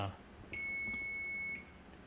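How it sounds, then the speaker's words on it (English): A single high electronic beep rings out for about a second, like a kitchen timer alarm, over quiet room background. "The alarm is ringing for the soup."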